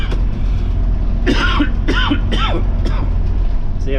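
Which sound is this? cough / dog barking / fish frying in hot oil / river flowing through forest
cough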